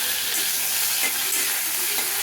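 Bitter gourd frying in hot mustard oil in a wok gives a steady, close, dense sizzle that holds evenly for the whole stretch with no voices.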